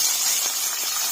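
Food frying in hot oil until golden brown, a steady broadband sizzle and hiss that holds fairly loud and close throughout with no talking.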